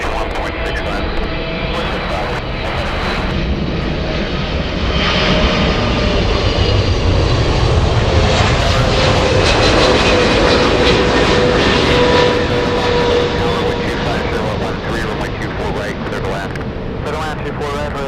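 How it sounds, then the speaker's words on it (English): A Swiss airliner jet flies in to land at LAX with a loud, continuous engine roar that swells toward the middle and slowly eases. A radio voice talks over it throughout. "Swiss flying in from Switzerland."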